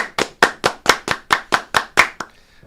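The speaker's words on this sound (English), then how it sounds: "10 claps, ready." Ten sharp hand claps in a quick, even rhythm, loud and close, followed by a brief quiet tail.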